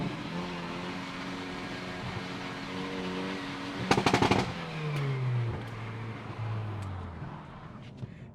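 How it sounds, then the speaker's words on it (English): Hyundai i30N hot hatch with a factory exhaust: a sharp rapid volley of pops and crackles cuts through the steady engine drone, followed by the revs falling away with a few scattered crackles. "take a listen to how brutal this exhaust sounds"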